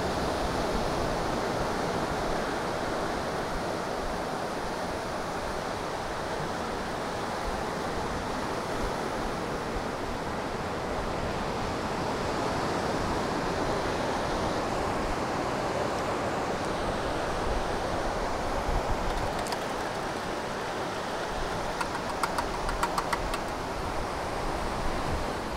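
Steady evening surf at Godrevy in Cornwall, a continuous wash of breaking waves rolling in, soft and distant with a faint hint of wind and no voices.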